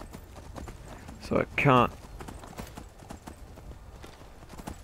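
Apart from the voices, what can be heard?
horse hooves clip-clopping while riding in video game Skyrim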